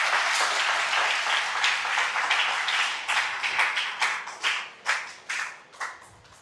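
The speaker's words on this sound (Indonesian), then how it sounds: "Mari kita kasih tepuk tangan yang meriah." A crowd applauds steadily, the clapping thinning out toward the end into a few scattered, distinct claps.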